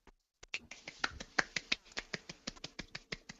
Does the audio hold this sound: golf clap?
yes